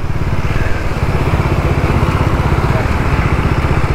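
A Bajaj Pulsar NS200 motorcycle engine runs close by with a loud, steady, rapid rhythmic thrum, idling without revving and heard alone.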